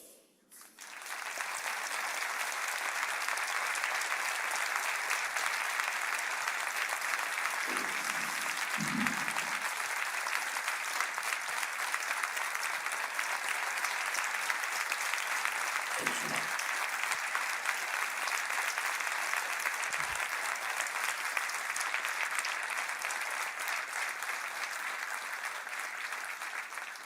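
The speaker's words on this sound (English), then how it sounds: "I hope you heard that the applause" Long, steady applause from a conference audience in Sweden after a speech by Ukraine's president, continuous and fairly distant for nearly half a minute, with a few faint low thumps.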